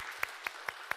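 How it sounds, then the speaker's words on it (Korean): Church congregation at a Korean Sunday service applauding to welcome a new member, with sparse, evenly spaced claps standing out over a soft background of applause. "우리 큰 박수로 환영합시다"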